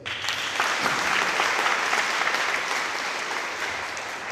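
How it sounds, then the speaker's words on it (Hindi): Audience clapping together at a church talk, a steady dense wash of applause that holds loud for about four seconds before easing slightly, with no voices over it. "एक बार ताली बजा दें"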